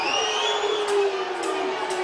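A stadium crowd at a rugby league match between Huddersfield and Wigan in 2018 roars and jeers in a loud, continuous wall of voices, with shrill whistles rising above it.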